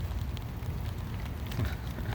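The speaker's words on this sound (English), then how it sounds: "here we go with the rain" Steady rain falls in a dense, even hiss with low rumbling beneath it, continuous and fairly quiet throughout.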